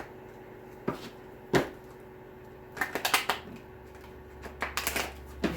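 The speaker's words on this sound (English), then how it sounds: "going to shuffle one more time." Cards are riffled and shuffled in several quick bursts, with isolated taps and soft clatter between them over a faint steady hum.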